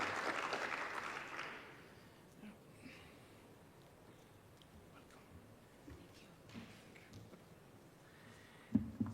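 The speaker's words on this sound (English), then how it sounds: "Kindly applaud her, she comes." A conference crowd at the Kenya-Sweden Bioeconomy Fair applauds as the next speaker comes up. A full burst of clapping fills the first second or so, then it quickly dies away into a quiet room with faint scattered shuffling.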